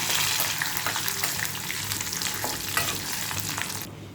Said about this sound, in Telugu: పప్పులన్నీ ఇలా వేగిన తర్వాత 8 ఎండుమిర్చి అండి వేసుకోవాలి.